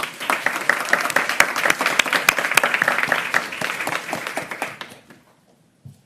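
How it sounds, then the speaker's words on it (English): A crowd applauds loudly at a mayoral press conference with dense clapping for about five seconds, then the clapping fades out quickly. "I want to give them a round of applause."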